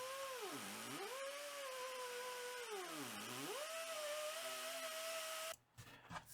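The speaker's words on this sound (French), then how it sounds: "Donc un petit sablage là, à l'intérieur du trou." A power tool whines steadily while sanding inside a drilled cup hole in a wooden sofa tray, its pitch dipping twice as it loads, close and continuous, before cutting off into brief handling noise.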